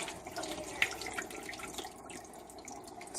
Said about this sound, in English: I'm going to take the hot water. Let me pour it over it.